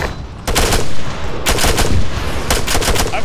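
Bursts of automatic gunfire crackle in Arma 3 combat, three rapid volleys spaced about a second apart over a steady noisy background, loud and close.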